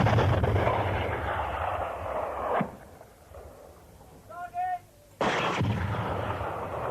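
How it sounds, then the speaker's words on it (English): Gunfire striking a 50-litre container protected with magnesium alloy and filled with 4-star leaded petrol, a loud boom and roaring rumble, then a sharp bang, a brief tonal whine, and another heavy burst, with talk over it. "A 50-litre container protected with magnesium alloy TSE and filled with 4-star leaded petrol was fired upon"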